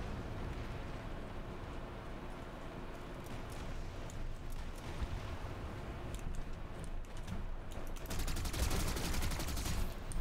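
Rapid automatic gunfire from the online shooter PlanetSide 2 rattles in long continuous bursts, growing denser and louder toward the end, with battle noise layered underneath.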